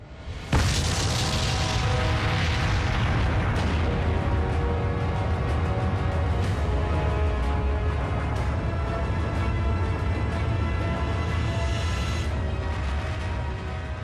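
An atomic bomb test explosion in the desert: a sudden deep boom swells into a continuous heavy roar that rumbles loudly and evenly for over ten seconds.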